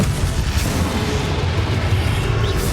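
The Confringo fire spell in Hogwarts Legacy blasts out as a sustained, deep rumbling boom with crackling debris, loud and dense throughout, with magical whooshes layered on top.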